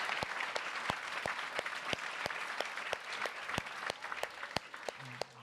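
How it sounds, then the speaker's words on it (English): Audience applause at a town hall session of a harvest conference, a dense steady clapping from a crowd that fills the whole stretch at an even, moderately loud level. "Let's clap."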